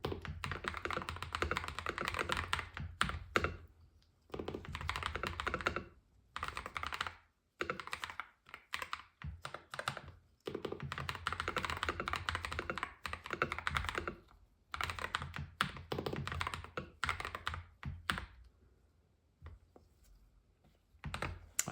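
Steady bursts of clacky, slightly thocky keystrokes from a GravaStar V60 Pro mechanical keyboard fitted with UFO switches, typed in uneven runs separated by short pauses, close and fairly loud with no talking.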